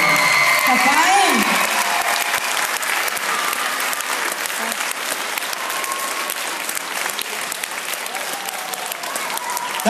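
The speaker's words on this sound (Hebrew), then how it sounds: "כפיים!" Sustained, dense crowd applause fills a hall at a dance studio's season finale, steady and loud throughout, with a voice briefly audible near the start.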